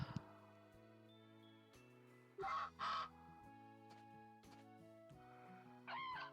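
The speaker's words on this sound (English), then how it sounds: "Good evening, chickens and duckins." Farm chickens and ducks in Story of Seasons: A Wonderful Life give short game clucks and quacks, a few brief calls rising over a steady background music loop.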